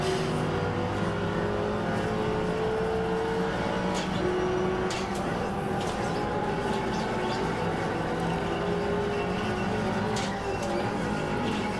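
GT race cars in iRacing at Road Atlanta, engines droning steadily down the front straight with a Mustang among them, a loud continuous roar with shifting tones throughout.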